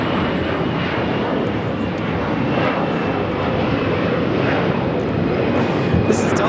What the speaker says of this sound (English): This is Delta Airlines 622 taking off to Austin on the A321